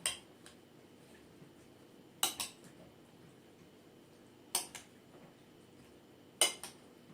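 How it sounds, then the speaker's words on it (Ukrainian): A spoon clinks sharply against a plate four times, spaced a couple of seconds apart, with quiet, soft stirring of fruit salad with yogurt in between. "Ну а зараз перемішуємо його ложкою."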